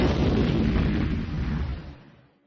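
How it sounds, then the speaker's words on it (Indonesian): An explosion as a car slams into a tall, solid masonry wall, a loud, broad blast of rumble and crash that trails off into a fading roar over about two seconds, with no voices. "Terdengar suara ledakan di sana."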